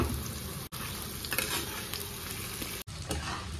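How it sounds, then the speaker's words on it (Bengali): Potatoes, boiled eggs and onions fry in a pan with a steady, close sizzle. Stirring sounds sit on top of the sizzle, and two brief cuts break it up, with no talk. "আলুগুলো খুব বেশি ভাজবো না, হালকা হালকাই ভাজবো।"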